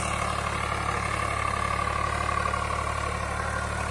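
A Swaraj 744FE tractor pulling a cultivator in high first gear with two people standing on it, its engine running at a steady, loud drone with a constant low rumble and no voices.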